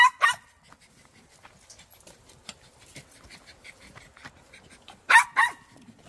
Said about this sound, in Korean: 똥강아지.